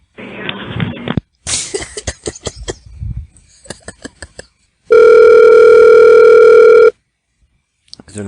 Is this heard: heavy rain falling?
no